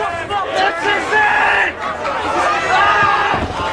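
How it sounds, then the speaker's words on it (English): A loud wrestling crowd on its feet at a deathmatch tournament, with many voices yelling and roaring together in rising, wavering cheers close by. "This crowd is on their feet."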